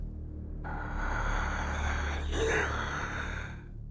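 Gasping breaths rise as a door is pushed open in an occult horror story, a loud, drawn-out airy intake that swells and fades over a low rumble.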